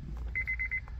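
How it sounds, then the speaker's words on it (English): Honda car's immobilizer warning chime beeps rapidly, about seven quick high electronic pips in one short burst inside the vehicle, fairly clear over a low background hum. "anytime it thinks the key's in the ignition, that beeping happens"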